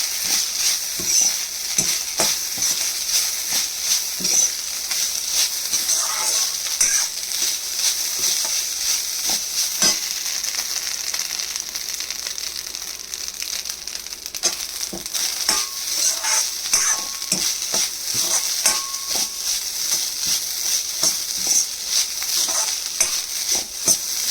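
Jeera rice is fried and mixed in a pan, with a steady loud sizzle and frequent scraping spatula strokes throughout at close range.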